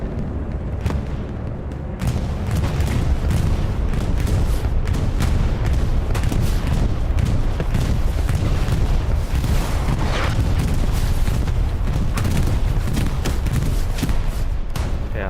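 Artillery fire in a WWII video game battle at Stalingrad's railway area, a dense, loud barrage of booming blasts and thuds rolling almost without pause, with sharper impacts scattered through the roar.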